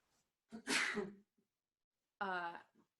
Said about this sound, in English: That was just a dust sneeze.